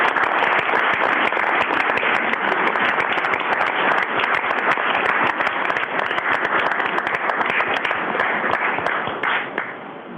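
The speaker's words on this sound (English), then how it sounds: "Please join me in another round of applause for Heinz Brothers Greenhouse" At a city council meeting, audience applause for a greenhouse business honored as the ward's spirit award winner runs loud and dense for about ten seconds, tapering slightly at the end.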